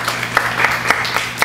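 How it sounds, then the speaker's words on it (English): Clapping of praise from a church congregation during a sermon, a short burst of scattered hand claps with a few sharper individual claps standing out over a steady room murmur. "Let's give the Lord a clap of praise."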